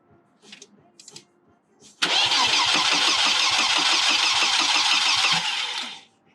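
A starter cranks an engine on the Titan CQ during a first-start attempt, with a few brief rattles followed by a sudden loud, steady churning roar that lasts about four seconds before cutting off.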